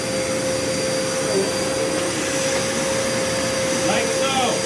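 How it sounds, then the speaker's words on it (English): A vacuum cleaner runs on carpet with a loud, steady motor roar and a high whine that holds throughout, close and continuous with no break in its pitch. "You can also vacuum in a W motion to get the whole room done faster."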